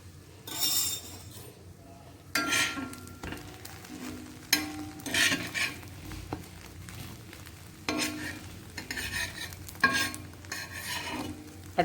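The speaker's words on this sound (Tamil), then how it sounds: "மீடியமாக வச்சு நல்லா 2 பக்கமும் அப்பப்போ திருப்பி போட்டு ரோஸ்ட்டு பண்ணிக்கலாம்" Bread slices roast in oil in a pan over medium heat, giving a soft continuous sizzle broken by intermittent clinks and scrapes as they are turned, close by and with no talking.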